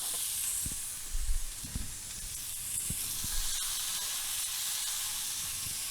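Smashburger sliders sizzle in oil on a soapstone slab inside a Kamado Joe grill, a steady broad hiss with a few low thumps and scrapes, no talking.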